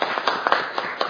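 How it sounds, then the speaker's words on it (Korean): Thin applause from a small seminar audience at a media-law panel discussion: a handful of separate handclaps scattered unevenly over a second, near and moderate in level, with nobody speaking. "허윤 변호사님께도 박수 좀 부탁드리겠습니다."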